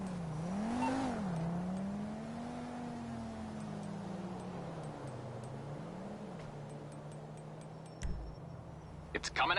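A car arrives in a PS4 video game with a steady engine whir that swells, wavers in pitch and then settles. A few sharp clicks and knocks come near the end.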